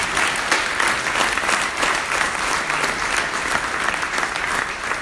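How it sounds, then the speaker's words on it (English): A large audience at a national Venturing reception gives a big round of applause, loud and sustained clapping throughout with no break or talk. "If I can give a big round of applause for all of them."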